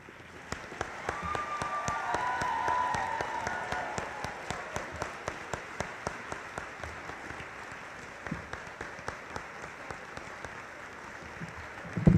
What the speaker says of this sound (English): Rail splitters, please rise for one more applause